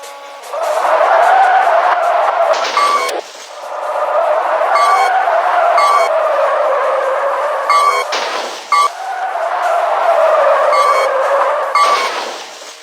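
Car drifting through a turn in the Street Racing 3D mobile game: a sustained engine and tire-squeal tone swells and holds for several seconds, breaks off briefly, then returns in three long passes, loud and close.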